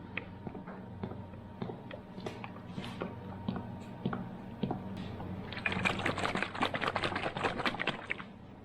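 Oil glugs and trickles as it is poured into a skid steer engine, close and fairly quiet, with irregular splashy pattering that grows denser and brighter toward the end.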